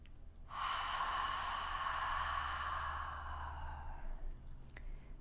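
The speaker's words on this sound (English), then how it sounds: "So on our inhale, we're going to constrict the back of our throat, and on the exhale, We'll do the same with our mouth open." Ujjayi yoga breathing with a constricted throat: one long, hoarse, hissing breath lasts about four seconds, steady and close, then fades into quiet, with no talking.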